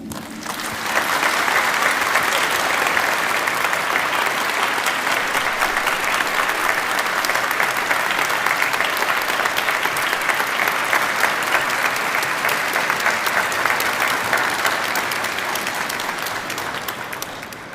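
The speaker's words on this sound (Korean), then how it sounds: "모두 뜨거운 박수로 환영해 주시기 바랍니다" Sustained audience applause fills a hall as the president takes the podium at a special Vatican Mass, steady and dense throughout with no voices over it.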